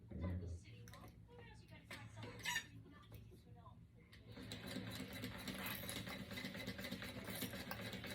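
A sewing machine bastes a seam along a small zipper pouch, starting after some speech and then running as a steady, fast mechanical whir for the last several seconds, with faint clucking chickens in the background.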